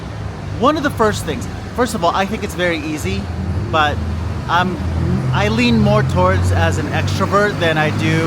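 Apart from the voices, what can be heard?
morning street traffic in Guanajuato: trucks, buses, taxis, cars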